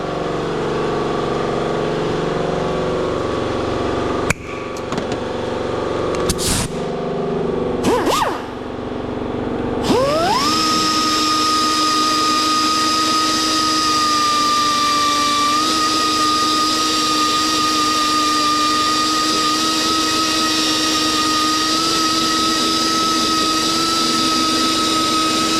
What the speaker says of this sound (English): The die grinder I need to hit.